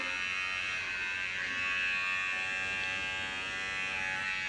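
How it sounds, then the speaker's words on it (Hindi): An electric hair trimmer switched on for cutting fringe bangs at home hums with a steady, high-pitched electric buzz, close and constant for several seconds without speech. "ट्रिमर ऑन किया"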